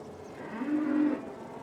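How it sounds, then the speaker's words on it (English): A dairy cow in a tie stall barn on a small milking farm lets out a single low moo that swells and fades over about half a second, heard at moderate distance against quiet barn ambience. "the only cows that we have on the farm currently are the milking cows."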